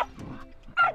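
A dog barks nearby on Sumbawa, giving a brief, fairly loud bark or two at the very end of a short moment.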